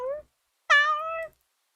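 A human voice imitates a cat with two meows, a short one then a longer, rising and falling drawn-out one, near and clear against silence.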